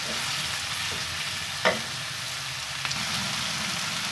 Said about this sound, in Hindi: इससे मैंने अच्छे तरीके से आलूओं को इसमें फ्राई कर लिया है ऑयल में। ऑयल, प्याज, ज़ीरा और लहसुन के साथ।